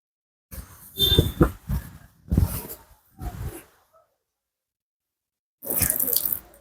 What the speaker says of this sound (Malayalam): നമ്മൾ ആ ഉണ്ടായിരുന്ന ആ ഒരു വെള്ളം കൂടെ പിഴിഞ്ഞ് കളഞ്ഞിരിക്കുകയാണ്